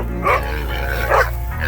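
Hunting dogs out after wild boar give two loud, close barks while catching small young wild pigs in the Marlborough bush, with a faint rumbling background and no talk.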